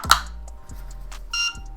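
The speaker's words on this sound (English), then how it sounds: "Oh, it made a beep." A short electronic beep from a small device running on two AAA batteries, followed by faint clicks and a second brief tone, quiet and close.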